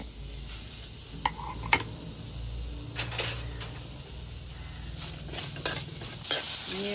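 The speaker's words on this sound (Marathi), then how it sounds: "उभो पातळ चिरलेलो कांदा बघा चांगलो लालसर भाजून घ्यायचं" Thinly sliced onions frying in a pan for a Malvani crab curry, a low continuous sizzle with scattered scrapes and clinks of a spatula stirring, fairly quiet and close, no talking.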